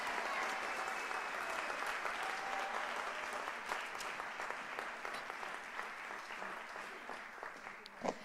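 Sustained applause from a large audience at a university's 150th anniversary celebration, steady dense clapping at moderate level that runs the whole stretch and swells slightly near the end.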